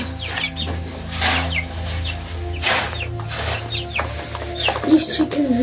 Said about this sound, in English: These chickens know their food just how Jesus knows their sheep.